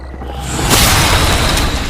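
A loud, booming blast swells into a sustained roaring rumble with a bright crackling wash, like a big dramatic explosion effect.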